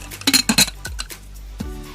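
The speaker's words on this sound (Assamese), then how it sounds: "এতিয়া মই কুকাৰৰ ঢাকনিখন লগাই দিম" Pressure cooker lid put on for a glass cake recipe, a few sharp metallic clinks and clatters, then softer knocks of metal settling into place, close and alone.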